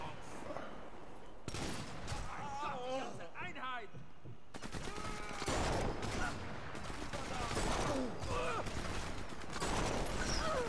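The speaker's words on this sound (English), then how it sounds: "Well, it's got a hell of a noise, that rifle, isn't it?" Loud gunfire from a sniper rifle in the video game Sniper Elite 4, several sharp broadband shots spread through a busy mix with game sounds and people talking over it.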